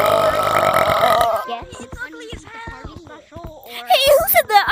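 A loud, long, croaky burp rumbles close to the microphone, then gives way to excited talking and laughter.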